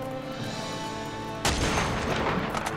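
Gunfire in the handheld action game Uncharted: Golden Abyss, a sudden loud broadband burst partway through, followed by a dense crackling tail of shots and debris over a steady game soundtrack.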